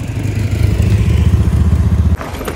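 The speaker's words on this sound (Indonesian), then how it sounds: "kita nyalakan motor" A motorcycle engine in Lencoh village, Selo, Boyolali, runs with a loud, close, rhythmic chugging idle, then the sound drops off abruptly near the end.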